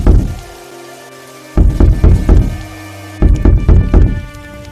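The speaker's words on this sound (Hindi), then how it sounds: "इतनी रात को कौन दरवाजा बजा रहा है?" Someone knocks on a house door late at night during heavy rain: two bursts of quick, heavy thumps, each a few seconds long, separated by a pause, over steady sustained music tones.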